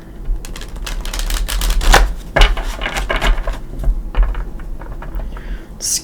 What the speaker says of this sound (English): Everything is pre-shuffled, but I do like to shuffle it with you here.